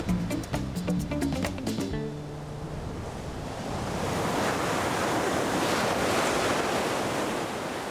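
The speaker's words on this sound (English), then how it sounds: "Big waves, warm water, all year round." Atlantic Ocean waves breaking off the Dakar coast in Senegal, a loud, broad roar of surf and wind that swells and holds, following a few seconds of percussive music at the start.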